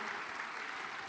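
Applause from the audience at a virtual fundraising gala livestream, a steady wash of clapping that holds at an even level throughout, moderately distant, with no voices on top.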